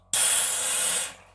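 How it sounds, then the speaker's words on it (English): A can of Brewdog Black Heart draught stout cracks open with one sudden, loud, close gassy hiss that lasts about a second and then fades out. "So let's crack them open and see what we've got, shall we?"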